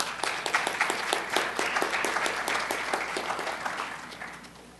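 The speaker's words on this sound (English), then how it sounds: "I think we need to give friends, family, etc. a little round of applause, students." Students and guests at a Phi Theta Kappa induction ceremony give a round of applause for friends and family, steady dense clapping that holds for several seconds and slowly thins toward the end, with no speech over it.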